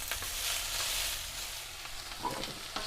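Onions fry in oil in a pan for an eggplant basil chickpea curry, giving a steady, moderate sizzle throughout with a few faint stirring clicks near the end.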